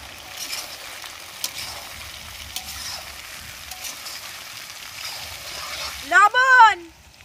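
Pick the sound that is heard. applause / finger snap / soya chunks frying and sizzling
soya chunks frying and sizzling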